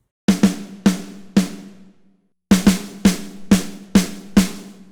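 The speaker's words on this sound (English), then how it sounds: "It's a very nice, beefy, big snare drum." Dry, punchy snare drum strikes, close and loud: a quick run of four hits, a short pause, then about six more, each ringing out briefly.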